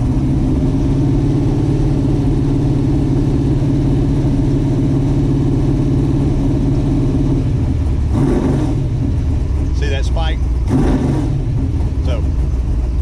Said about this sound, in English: I'm gonna bring the RPMs up.